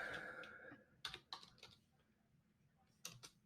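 Quiet typing on a computer keyboard: a few short bursts of key clicks with pauses between them, close and faint, after a brief murmur.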